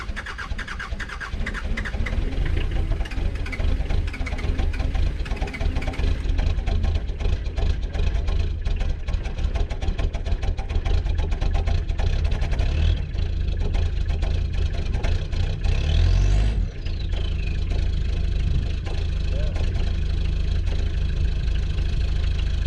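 A Mitsubishi Delica diesel engine runs at a steady, loud idle after a slow start with a glow plug fault, a continuous low rumble that dips briefly partway through.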